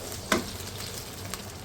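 Garlic ginger paste fries in hot oil for moong dal, giving a soft continuous sizzle with a sharper crackle early on and a faint tick later, quiet and close.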